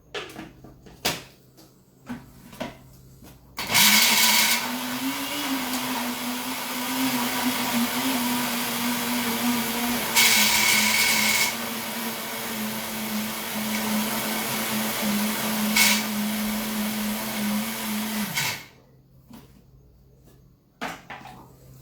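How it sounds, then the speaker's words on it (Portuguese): Countertop blender whirring steadily for about fifteen seconds as it mixes sugar-free cake batter with sweetener, loud and alone, with brief kitchen clatter before and after. "vou bater aqui no liquidificador, vamos botar o fermento e botar ele para assar"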